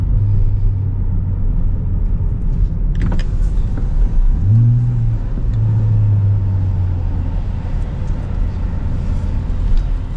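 A 2027 Nissan Z NISMO with a turbocharged engine and six-speed manual drives on a track, its steady low engine drone heard from inside the car, with a brief rising swell midway.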